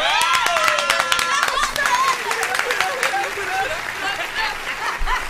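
An audience at a French game show claps for a contestant, a moderate round of applause with laughter and excited voices talking over it.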